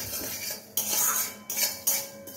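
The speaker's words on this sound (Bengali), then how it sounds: "এটাকে একটু নেড়ে নিই।" Utensil scraping and clinking in a pan as lentils are stirred while cooking greens, a few separate bursts of metallic rattling, close and moderately loud with no talking.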